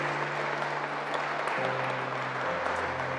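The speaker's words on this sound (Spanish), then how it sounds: "¿Cuántos le pueden dar un fuerte aplauso al Señor?" A church congregation applauds in a dense, continuous wash of clapping while a low sustained musical tone hums steadily beneath it.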